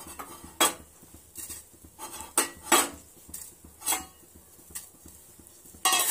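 Whole grains for kheer being stirred in a metal cooking pot, with a spoon repeatedly scraping and clinking against the pot in irregular bursts. The sound is close and moderately loud, and nobody speaks.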